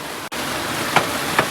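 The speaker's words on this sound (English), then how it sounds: "Cooking out in the rain. Big time rain." Heavy rain falls steadily outdoors at a cookout, a dense, even hiss broken by a brief dropout and a couple of soft taps.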